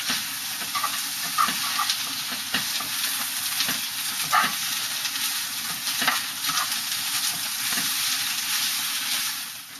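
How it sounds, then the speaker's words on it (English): Carrots and shiitake mushrooms fry in a pan for iridofu, a steady crackling sizzle with scattered pops and stirring scrapes, close and continuous, no voices. "the shiitake is all ready. Now it's time to cook. Cook until the carrots are soft."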